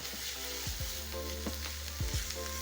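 Three cloves of garlic sizzling in a pan with softening onions, a dense, continuous fry with a few low knocks from stirring under a steady hum.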